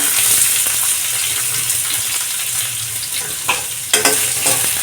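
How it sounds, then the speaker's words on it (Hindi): Chopped onion fries with garlic and chili in hot oil, a loud continuous sizzle up close, with a few scraping stirs toward the end. "प्याज को हल्का गोल्डन भूंज लेंगे"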